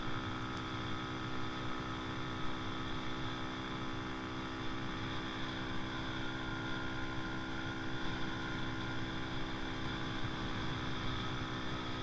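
A TaoTao TBR7 motorcycle engine labors in fifth gear on a highway, giving a faint, steady, droning hum with strong tonal harmonics and no talking.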